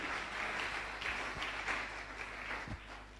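A church congregation claps and applauds in praise during a worship gathering, a moderately loud, uneven wash of hands with a few sharper claps standing out, heard without any voices.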